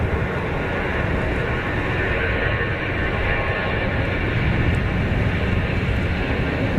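An easyJet airliner on its takeoff roll at Zurich Kloten Airport gives a steady, broadband engine roar that holds level and loud throughout, with no talk over it.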